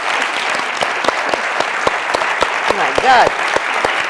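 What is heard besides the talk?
audience applause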